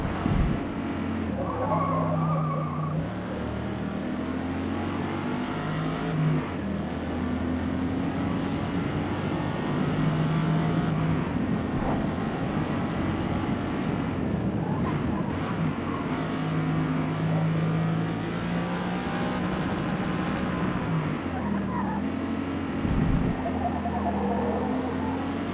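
Audi Quattro race car in Forza Motorsport roars steadily at close range, its engine note rising and falling through gear changes, with repeated tire squeal and skidding through corners across the lap.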